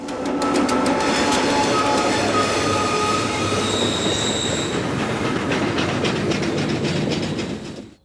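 Loud, steady rumble of freight train wheels rolling along the track in California's Feather River Canyon, with rhythmic clicking over rail joints and high metallic squeals, continuous throughout.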